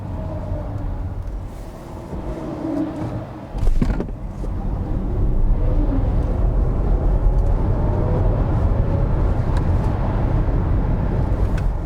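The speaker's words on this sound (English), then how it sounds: "Now it's time to accelerate the car a bit. I'm in sport mode." Ford Explorer AWD electric car accelerating in sport mode along a straight, with steady road and motor noise from inside the cabin, a brief thump near four seconds, then a sustained, slowly rising drone.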